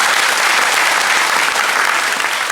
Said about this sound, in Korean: 우리 큰 박수로 한번 축하하겠습니다.